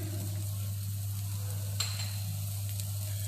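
Chopped garlic, onion and mixed herbs sauté on a low flame in a pan, a quiet, even sizzle beneath a steady low electrical hum, with one brief clink of a utensil midway and no talking.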